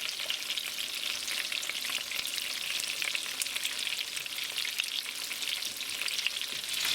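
Shrimp fry in a hot pan for a shrimp oreganato dish, giving a steady, close, continuous crackling sizzle that holds an even level throughout with no voices.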